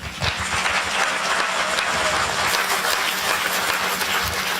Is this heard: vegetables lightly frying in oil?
no